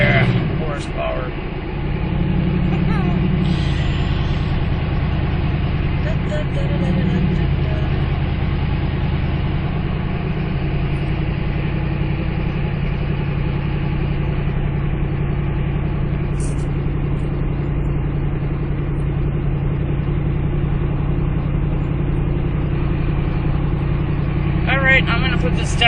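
A 1974 Winnebago motorhome's engine drones steadily while driving, a low continuous rumble with slight shifts in pitch, and someone talks over it at times.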